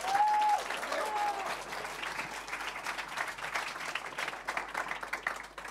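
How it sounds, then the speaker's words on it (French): An audience at an inclusion challenge ceremony applauds steadily throughout, a sustained wash of clapping from a crowd at moderate distance, opening with a brief tone. "On peut applaudir Pierre bien fort"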